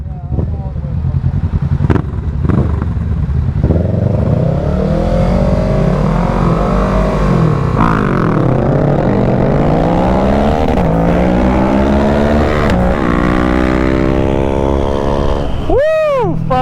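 A motorcycle engine is revved hard and shifted through gears during a late-night ride, loud and close, with rising and falling pitch sweeps, a final sharp high rev, and voices talking and shouting over it.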